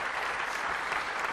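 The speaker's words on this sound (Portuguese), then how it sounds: "Palmas para o Igor e para a Tuxa." An audience applauds steadily, a dense continuous patter of clapping hands from a crowd, sustained and even for the whole moment.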